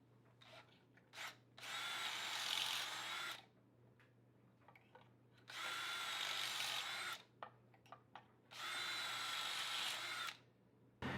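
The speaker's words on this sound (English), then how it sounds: "Basically it just pre-drills some angled holes" A power drill bores angled pocket holes through a Kreg jig into wood for a boat's bimini snow cover frame: three sustained whining bursts of a couple of seconds each, separated by quiet pauses with small clicks and handling noises.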